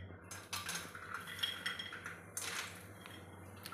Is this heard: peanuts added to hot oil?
yes